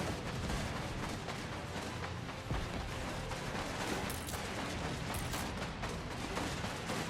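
Naval gunfire pounds a harbor under attack in the Anno 1800 game, a dense continuous barrage of cannon blasts and crackling shots layered with distant rumbling.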